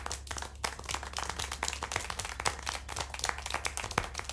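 Hands clap in the video game Syberia 4, a fast run of many crisp claps like applause, steady and fairly quiet throughout over a low hum.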